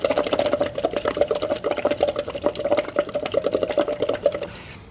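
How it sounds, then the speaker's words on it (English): Air blown through a straw into a cup of liquid makes a steady bubbling burble, rapid gurgles running continuously for several seconds at moderate level, close and alone. "step one is just blow bubbles into the liquid"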